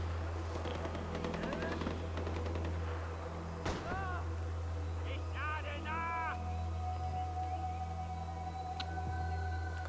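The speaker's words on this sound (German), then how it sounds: "Wieso wird hier schon geschossen?" Gunfire in the shooter game Far Cry 4: rapid bursts of automatic fire early on, then scattered single shots over a constant low hum, with voices speaking at times.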